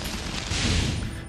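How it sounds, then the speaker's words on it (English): Goblins explode on contact in the video game Dragon's Dogma, making a dense, loud burst of crackling blasts that fills the whole short moment with no talking. "these goblins are just like exploding when I walk into them"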